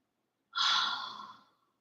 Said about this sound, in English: We breathe into the lungs.